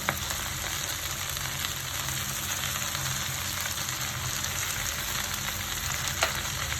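Two finely chopped tomatoes fry in a pan for an okra theeyal, producing an even, close sizzle with light crackle and occasional stirring, steady from start to finish.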